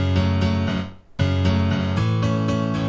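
Piano heard with no EQ applied, its full bass left in: sustained chords with a brief dip and a fresh strike partway through, rich and warm low end, played alone with no talk.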